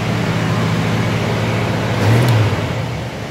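A carbureted 1989 Jeep Wrangler idling high during a cold-start warm-up, then revving once as the gas is hit, a brief rising engine surge over a steady loud drone that settles back.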